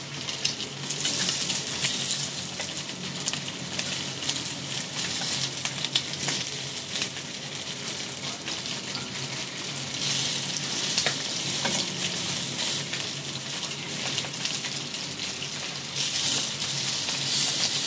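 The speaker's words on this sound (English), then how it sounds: "Okay, this is a hot pan. We're gonna put that face first of the chilies." Green chilies stuffed with pork mince and coated in cornstarch fry face down in a very hot pan, giving a loud, continuous hissing sizzle with fine crackles swelling and easing, close up and without talk.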